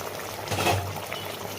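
Hilsa curry with eggplant and green chillies bubbling in a pan, a steady low simmering hiss with a brief louder burble midway, close and fairly quiet with no talking.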